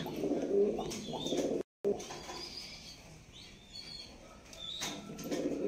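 Giribaz pigeons at a pigeon farm give soft, close cooing calls with bursts of wing flapping and a few chirps, broken by a brief moment of silence.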